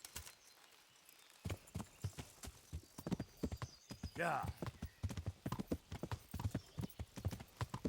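Hoofbeats from a horse in Kingdom Come Deliverance thud in a steady quick rhythm close by, with a whinny partway through and someone talking over the galloping.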